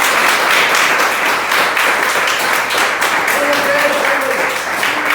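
A church congregation claps and applauds continuously in praise during a service, a dense, loud wash of many hands that carries on throughout, with voices faintly mixed in beneath.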